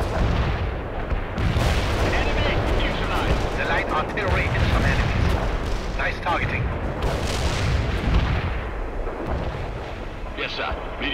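Artillery pounds enemy positions in the World in Conflict strategy game, a dense, loud stretch of heavy booms and blasts mixed with gunfire, with voices talking over the barrage.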